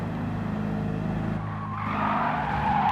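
A classic car's engine is held at full throttle during a race in Gran Turismo 7, giving a steady, loud drone. Tire squeal rises over it toward the end, and no one speaks.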